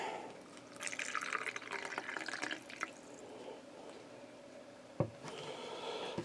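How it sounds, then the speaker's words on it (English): Warm water poured into a small container of tree seeds, a splashing, trickling fill heard up close for a few seconds, then a brief knock and a softer second pour. "So we'll pour some warm water in here."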